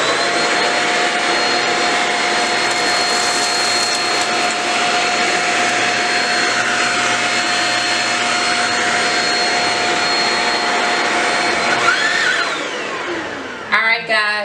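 Shark vacuum cleaner picking up cracker crumbs from a floor, running with a loud continuous roaring whine for most of the clip before spinning down near the end with a few bumps.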